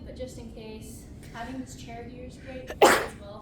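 A single sharp, loud sneeze bursts out close by near the end, after a stretch of a person talking calmly.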